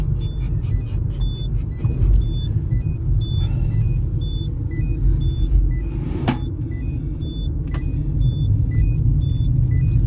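A car travels along a road near a huge wholesale market, its steady low rumble of engine and tyre noise continuous and close throughout, with a few faint high beeps and brief clicks on top.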